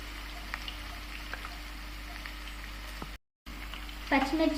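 Onion pieces and green chillies sizzling in hot oil for aloo curry, a soft steady fry with faint crackles, a brief dropout, then a louder burst of stirring and sizzle near the end.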